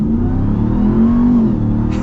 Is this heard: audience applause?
no